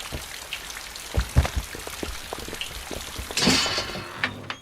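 Rain falls just outside an open door, a close, busy patter of drops on hard surfaces with irregular louder splats and a brief swell of heavier splashing near the end.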